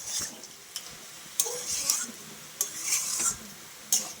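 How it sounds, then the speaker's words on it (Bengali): Fried lentil dumplings tipped into a pan of pea greens and stirred: soft, intermittent scraping strokes of a utensil over a faint sizzle, close and fairly quiet. "আর আমি যে বড়িগুলো ভেজে রেখেছিলাম এগুলোও দিয়ে দিচ্ছি"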